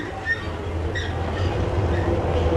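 A rubber-tyred Paris metro train from the late 1950s rumbles steadily nearby, with a low drone and faint high squeals from the wheels.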